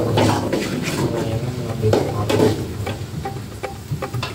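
Green chillies are sautéed in a pan, giving a steady sizzle and frying crackle with the scrape and clink of stirring against the pan, close and moderately loud, with no talk.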